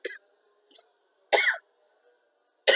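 Several short coughs in the clear, spaced irregularly with brief silences between them, no talk over them.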